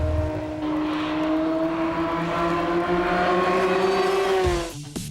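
A Honda NSX race car at Tsukuba circuit, its engine holding a loud steady high-revving drone heard from inside or close by before the revs drop off abruptly at the end.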